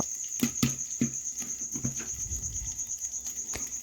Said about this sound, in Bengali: এ দেখুন ভুট্টা ফোটা ফুটা একদম কমপ্লিট হয়ে আসছে